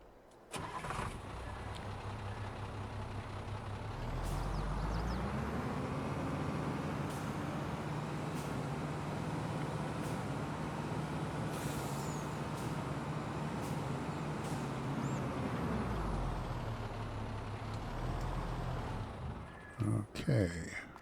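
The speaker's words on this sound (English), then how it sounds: "Let's pull our truck back in." A truck engine starts and runs steadily at a low mid-pitched rumble, holding nearly constant for most of the stretch before settling and cutting off near the end, with some talk underneath.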